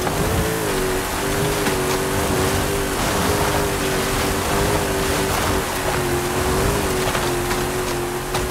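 RJ Anderson Pro 2 off-road racing truck driving in a video game, a loud, steady engine drone holding a constant pitch with a dense rushing noise bed, no talk heard.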